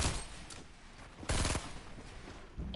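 A sniper rifle shot in Fortnite Season 6 cracks out loud and close, one sharp burst with a brief tail, amid quieter game noise and a couple of softer pops.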